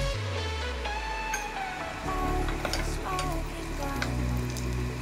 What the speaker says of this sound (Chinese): 油烧了以后就放入蒜头在里面